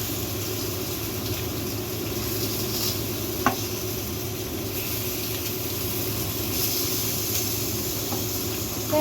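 Food fries in a pan, browning on one side before being turned, giving a steady close sizzle and hiss throughout with an occasional faint tick, and no voices.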